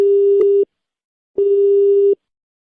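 Two long steady electronic tones, each about three-quarters of a second, separated by a pause, the beeping pattern of a call that has been disconnected.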